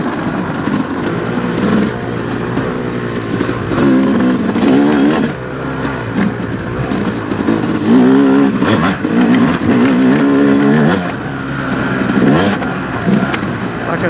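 A 2025 Yamaha YZ250X two-stroke dirt bike rides an off-road OHV trail in a fairly high gear, its engine droning loud and close with repeated surges and throttle changes throughout.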